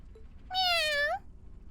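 A single cat meows once in The Legend of Heroes, a clear, close, rising-then-falling call lasting about half a second against a quiet background.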